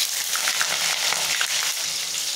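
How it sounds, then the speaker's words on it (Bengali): Chopped onions sizzle steadily in hot oil in a wok, along with whole garam masala, bay leaves and cumin seeds, in a loud, even hiss with occasional stirring. "পেঁয়াজটা এখন খুব ভালো করে ভেজে নেব।"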